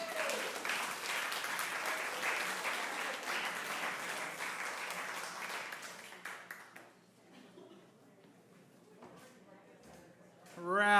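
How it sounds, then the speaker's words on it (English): A small story-night crowd in Bremerton, Washington claps steadily for a storyteller, the applause fading after about six seconds into scattered claps and a voice talking. "Round of applause for Priya."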